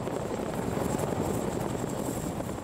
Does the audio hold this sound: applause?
no